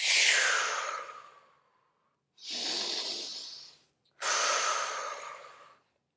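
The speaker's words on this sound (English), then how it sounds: "inhaling as much air in as possible on the inhale, and exhaling out completely on the exhale" Three long, forceful breaths in an air-chug breathing exercise, each a full inhale or exhale of rushing air near the microphone, separated by short silent pauses.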